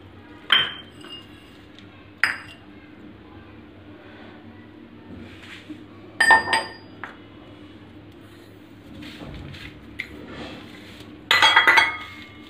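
A spoon clinks and scrapes against a bowl while coriander prasad (panjiri) with cardamom powder is mixed, giving several sharp metallic taps and bursts of rattling between quiet stretches.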